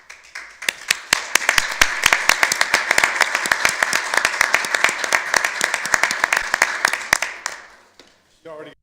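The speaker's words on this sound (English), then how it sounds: "You already got your round of applause." Applause in a city council chamber: many sharp, close claps build quickly into a loud, dense round that holds for about seven seconds, then fades away, followed by a brief voice.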